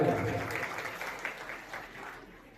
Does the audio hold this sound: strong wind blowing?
no